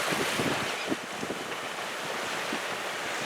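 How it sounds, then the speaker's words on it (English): Ocean swells wash around a sailing boat out past the Golden Gate, a steady broadband rush of water and wind noise with a few low surges, constant and fairly close throughout. "Some of those swells come up higher than the boat."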